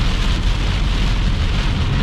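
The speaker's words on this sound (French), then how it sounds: "Comme vous pouvez voir, c'est des orages plus de pluie." Heavy rain pours steadily during a thunderstorm, a dense loud hiss of drops striking surfaces, continuous and without talk.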